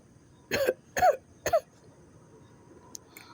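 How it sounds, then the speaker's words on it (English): Three harsh, close coughs from e-cigarette use in quick succession, roughly half a second apart, followed by near quiet. "e-cigarettes be making me cough"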